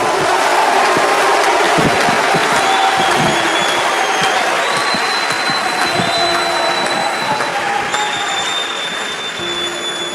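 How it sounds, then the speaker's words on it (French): A large crowd at a political speaking event applauds and cheers the speakers, a loud, continuous roar of clapping and voices that fills the whole stretch without a break. "je vais vous demander d'applaudir avec tout l'amour qui est le vôtre tous les orateurs et toutes les oratrices qui ont parlé aujourd'hui"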